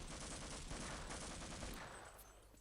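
Rapid gunfire bursts from the video game Half-Life, including the revolver, sound in a dense clattering string of shots that fade toward the end, fairly quiet with no talking.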